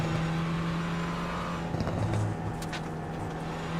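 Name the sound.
Renault Clio Cup race car in iRacing video game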